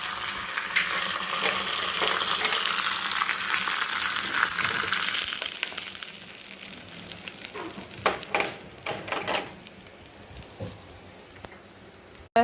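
A hot tempering of popped mustard seeds and curry leaves is poured into peanut chutney. It makes a strong, close sizzle for several seconds, then fades into quieter stirring with scattered clinks of a spoon against the bowl.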